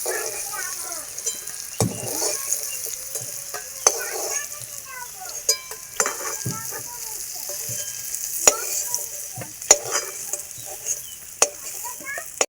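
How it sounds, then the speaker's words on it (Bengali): Potatoes sizzle in hot oil in a pan for a vegetarian aloo paneer dish, with repeated scraping strokes of a spatula stirring them and a steady frying crackle underneath, while someone talks throughout. "ভাজা হয়ে গেছে, একটু লাল লাল করে ভেজে নিয়েছি।"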